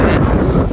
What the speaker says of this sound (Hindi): हवा इतनी तेज लग रही है ना यहाँ पे